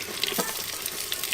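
Chopped onion sizzles in hot oil inside a clay pot, giving a steady, close crackling hiss with small pops for a brief moment.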